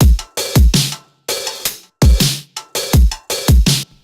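A punchy, processed drum beat with a lo-fi, effected character from Ableton stock effects plays loud and alone, hits falling in a choppy, syncopated pattern.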